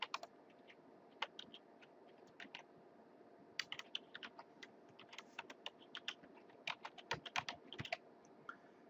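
Computer keyboard keys tapped in irregular bursts while a username is typed, close and clear, with short pauses between clusters of clicks and no talking.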